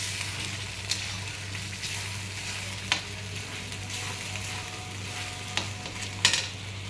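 Masala frying in oil for a potato cauliflower butter masala, with a steady close sizzle over a low hum, broken by several sharp spoon taps and scrapes against the pan, no talking.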